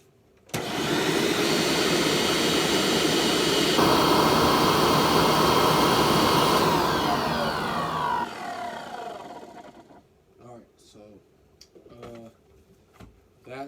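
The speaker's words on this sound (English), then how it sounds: "So this is what the motor sounds like." Faulty Hoover WindTunnel self-propelled upright vacuum motor runs loud and steady with a high whine, then winds down over several seconds, followed by light clicks and handling noises near the microphone.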